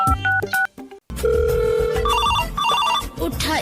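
A phone rings out while a friend is being called: a short ringtone melody, then a steady repeating ring tone, close and clear with no talking over it.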